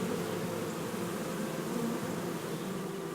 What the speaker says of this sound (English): You can see all the bees crawling around on those smaller hives.